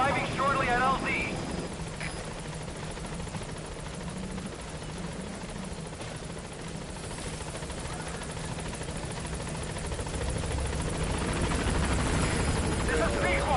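Helicopter rotors thump and whir as the aircraft arrives at a landing zone in the video game Metal Gear Solid 5, a steady, fairly loud drone with radio voices talking over it.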